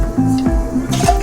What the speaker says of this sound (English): Sizzling, sizzling, getting nice